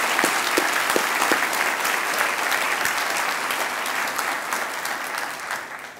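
Audience at an awards dinner giving the Hall of Fame inductees a sustained round of dense applause, many hands clapping steadily throughout and gradually thinning toward the end.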